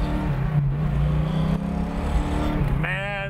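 A 1971 Plymouth Cuda recreation's engine rumbling loud and close with a deep steady idle, then a rising rev near the end, with no talking.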